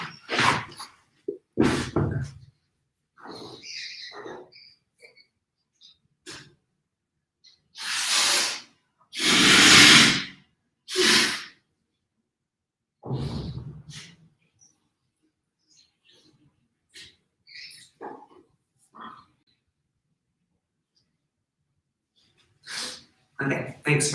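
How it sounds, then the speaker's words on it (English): Several loud, breathy bursts of nose blowing come in short spurts with quiet gaps between, close and forceful, with faint rustling in the pauses. "I just need to blow my nose."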